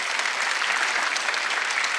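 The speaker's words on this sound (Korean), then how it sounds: "박수 한번 쳐봐요" A church congregation at a Sunday worship service applauds, a dense, steady clapping from many hands that holds at an even loudness throughout.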